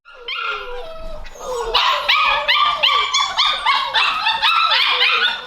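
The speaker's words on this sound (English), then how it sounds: "I don't know if you can hear these puppies or not" Several puppies bark and yip in a busy, overlapping chorus, loud and close, with whiny high-pitched cries mixed in.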